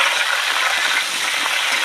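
Cauliflower florets frying in a pan give off a steady, loud, dense sizzle with faint stirring scrapes, continuous throughout with no talking.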